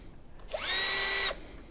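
A handheld power drill spins up in one close, steady high-pitched whir lasting under a second, then stops, with quiet room tone before and after.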